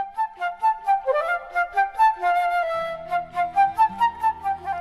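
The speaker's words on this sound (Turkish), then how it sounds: "Yan flütün sesi böyle çıkar." A transverse flute plays a smooth, breathy melody of connected notes, clear and close, with a soft lower accompaniment entering partway through.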